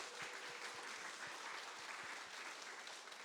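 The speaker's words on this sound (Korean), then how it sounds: "우리 북한에 있는 교회를 위해서 같이 한번 박수 한번 칩시다." A church congregation claps together during a Sunday worship service, dense steady applause filling the room with no talk.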